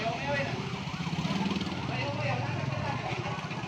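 A fire truck siren wails in rising and falling sweeps, steady and fairly loud, over a busy background of engines and voices at a large fire in Taguig, Philippines.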